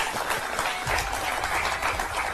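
An audience at a spiritual discourse on Sanatan Dharma claps in a dense, continuous round of applause, fairly loud and even, with no speech over it.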